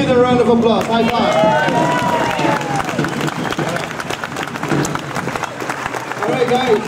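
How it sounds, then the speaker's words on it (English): Luau audience applauding at an outdoor Polynesian show in Maui, a burst of crowd clapping and cheering with children's voices and chatter mixed in, loud at first then easing. "let's give them a round of applause"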